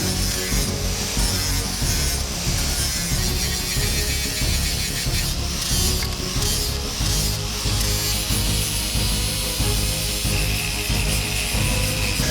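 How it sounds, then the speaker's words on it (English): A forged pirate sword's metal knuckle guard is polished with steady, loud, continuous abrasive rubbing, close up and unbroken throughout, with a rhythmic back-and-forth grain. "Give it a bit of a polish."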